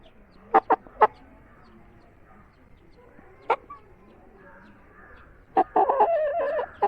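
A moulting Asil-cross chicken gives a few short, sharp clucks, spaced apart, then a longer run of clucking near the end, fairly close in a quiet setting.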